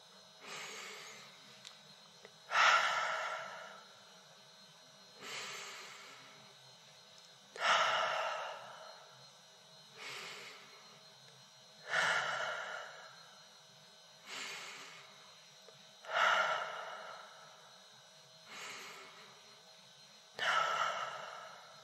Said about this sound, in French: Faites une série de 5 inspirations et expirations.